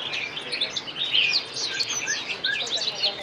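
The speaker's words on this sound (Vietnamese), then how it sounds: "Đây cu gáy." Spotted doves at a bird market give a busy stream of high, quick chirps and tweets, several birds overlapping close by against a soft background hum.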